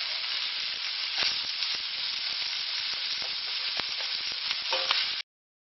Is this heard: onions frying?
yes